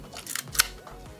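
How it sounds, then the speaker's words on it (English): A Canon Canonet QL17 GIII 35mm film camera fires its shutter once, giving a soft, quiet mechanical click with faint handling noise just before and after. "the shutter speed is gentle, it's not overpowering, it doesn't bring attention"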